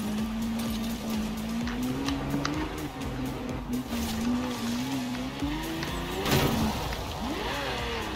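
V12 car engine in the racing game Forza Horizon 4, a steady droning tone that rises and wavers as the car climbs slopes, loud and continuous with a brief sharp knock near the end.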